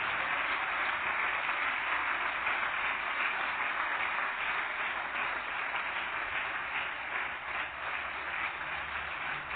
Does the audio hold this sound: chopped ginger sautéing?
no